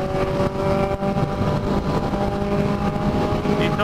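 A Honda Hornet motorcycle with a carbureted engine accelerates on a racetrack, its strained engine tone rising steadily and loudly across the whole stretch without pause, with no voices over it.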